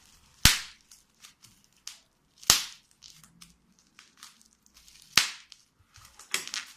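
A sheet of bubble wrap from a package is popped by hand: three loud, sharp cracks spaced about two seconds apart, with faint crinkling of the plastic between them and a cluster of smaller pops at the end.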